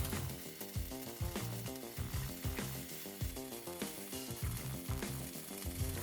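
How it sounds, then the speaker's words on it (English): A Unimig Viper 120 MIG welder running flux core wire gives a steady, crackling sizzle like frying, with rhythmic pulsing bursts throughout, close and continuous with no talking. "The welder I'm using is a Unimig Viper 120 MIG welder,"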